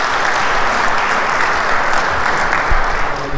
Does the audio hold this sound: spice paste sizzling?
no